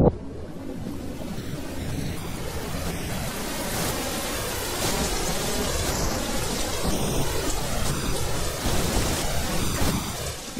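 Heavy rain from a cyclone in far north Queensland pours steadily throughout, with rumbling thunder rolling underneath; a dense, loud storm with no voices.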